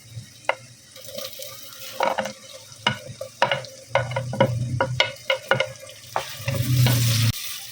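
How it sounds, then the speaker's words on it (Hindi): Softened baingan bharta is stirred in a frying pan before tomatoes go in: a spoon scrapes and knocks against the pan over a steady sizzle, with the frying growing louder near the end. "अब इसको हम अच्छी तरह हिलाएंगे और इसमें डालेंगे अब टमाटर।"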